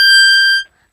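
A harmonica blown too hard on a high note gives a single harsh, shrill, buzzy tone lasting just over half a second, loud and close, then cutting off into silence.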